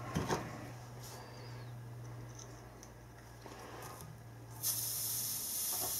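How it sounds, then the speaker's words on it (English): Solder and flux boil into the end of a cable under a hot soldering iron, giving a quiet, continuous sizzling hiss over a low hum that swells louder near the end. "You can hear the solder and the flux boiling its way up through there."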